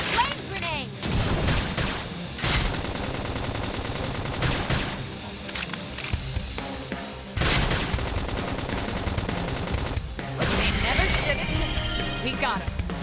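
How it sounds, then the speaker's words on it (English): A flame grenade explodes amid a sci-fi battle in Xenoblade Chronicles X, among repeated bursts of gunfire and booming impacts over a steady combat din, with character voices speaking between the blasts. "Flame grenade."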